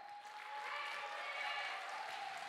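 Audience at a youth orchestra's regular concert applauding steadily, a dense even wash of clapping from a hall crowd, moderately distant and sustained throughout.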